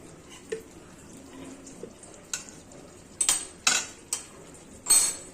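Metal pot lid lifted off a simmering green jackfruit curry after five minutes of covered cooking, a few sharp clinks and scrapes over a low bubbling simmer, close by with no talk.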